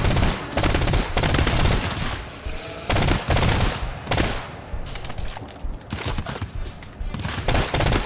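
Rapid, loud shotgun blasts in the co-op shooter GTFO, fired repeatedly in bursts across the whole stretch with brief gaps for pumping, under light talk.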